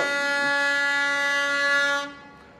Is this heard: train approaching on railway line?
yes